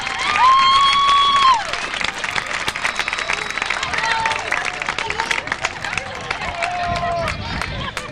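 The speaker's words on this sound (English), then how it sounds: "how about a round of applause for our middle school cheerleaders?" A crowd claps and cheers for middle school cheerleaders at an outdoor high school football scrimmage, with a whistle-like tone early on and busy background chatter throughout.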